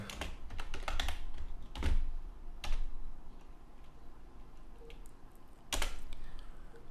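Clicky keys on a computer keyboard tapped close up in quick irregular bursts with short pauses, some louder keystrokes, like someone typing a short line of text, with no talk.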